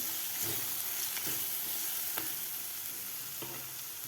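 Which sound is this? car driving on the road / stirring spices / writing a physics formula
stirring spices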